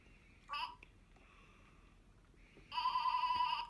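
Two toy bleats sound from a Sip N Sound novelty straw, a short one and then a longer, louder, wavering one, while a children's farm song about sheep plays.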